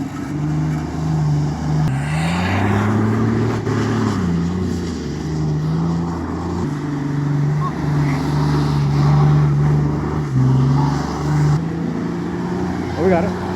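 Daily-driver car engine revving under added throttle, loud droning pitch rising and dipping through several surges, with voices talking over it.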